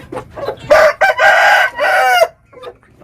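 A fighting-breed rooster kept abroad crows loudly and close by, one long cock-a-doodle-doo with a few short clucks before and after.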